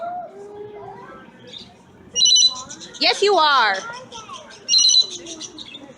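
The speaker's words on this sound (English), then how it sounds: "This bird's just yelling at me because I keep looking at the other birds." A loud, jealous pet bird calls in sharp, piercing bursts, several shrill screeches spaced a second or two apart, up close between and over a person's soft talking.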